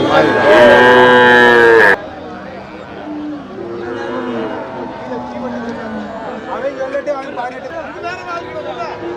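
Cattle bellowing at a livestock market in Melur, with one loud, long moo up close followed by softer, shorter lows from other animals amid a busy crowd's chatter.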